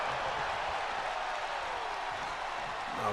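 Video game arena crowd in WWE 2K23 cheering and applauding during a wrestling match, a dense, steady roar of noise held loud throughout.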